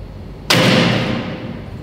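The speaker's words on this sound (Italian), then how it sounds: "sentir partire la freccia." A bow in barebow archery releases an arrow with a single sharp, loud snap and thud, followed by a short fading hum.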